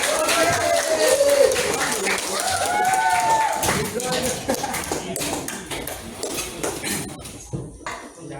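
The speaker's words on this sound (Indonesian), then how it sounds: "Tepuk tangan untuk kita semua." A group applauds together in a classroom lesson, with steady broadband clapping mixed with voices and a few whistle-like calls, gradually thinning out toward the end.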